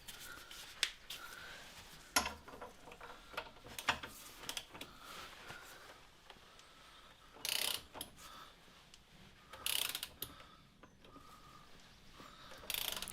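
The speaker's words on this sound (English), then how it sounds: "there's our 100 Newton meter click" Torque wrench set to 100 Nm clicking on a bolt of a Renault Laguna estate's rear suspension, a series of faint, sharp mechanical clicks in a quiet workshop with no talking.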